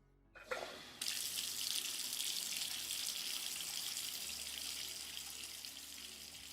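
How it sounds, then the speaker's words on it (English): After a brief click, hot water from a shower bursts on and runs steadily in a continuous hiss, spraying close by. "he turned on the hot water"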